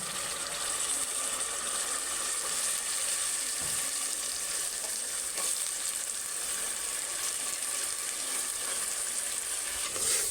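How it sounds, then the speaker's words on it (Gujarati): Onion and cauliflower frying in a pan, a steady close sizzle with soft stirring and scraping running unbroken for about ten seconds, no voices. "આ રીતને પછી મિક્સ કરી નાખવાનું ડુંગળી અને ફ્લાવરને."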